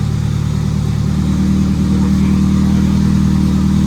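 Subaru engine revving hard on a dyno during a boosted first pull, a loud, steady, close roar with a strong droning tone that holds throughout.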